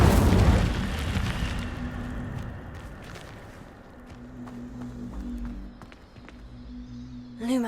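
The Incendio spell's fire burst opens with a loud, broad whooshing blast that fades into a low rumbling tail, and a second sharp flare bursts up right at the end.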